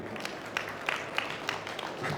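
Faint audience applause, a short patter of scattered claps with a few sharper hits, heard at a distance in a talk venue.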